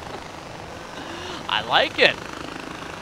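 A helicopter in the video game Far Cry 4 makes a steady, moderate rotor and engine drone under a brief spoken exclamation.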